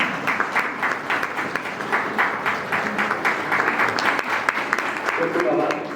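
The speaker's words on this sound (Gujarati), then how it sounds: "જોરદાર તાળીઓથી આપણે તેમને વધાવીએ" An audience at a retirement function in Dhrol gives warm applause to welcome a guest, many hands clapping in a brisk, even rhythm that carries on for several seconds.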